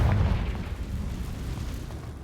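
A Confringo fire spell explodes in Hogwarts Legacy, a deep booming blast with a heavy low thump at the start that fades into a rumbling, crackling tail, fairly loud and unaccompanied by speech.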